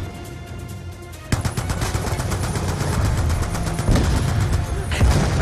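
Machine gun fire from Call of Duty: Black Ops 2 starts after a quieter moment and then runs as a sustained, loud automatic burst, with rapid, dense shots filling the rest of the passage.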